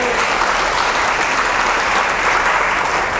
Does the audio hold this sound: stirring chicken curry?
no